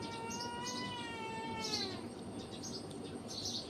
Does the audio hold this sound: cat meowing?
yes